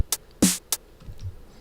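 A first variation of a drum pattern loop programmed in Ableton: a short, sparse run of hi-hat ticks, a kick and a snare-like hit, fairly quiet and alone.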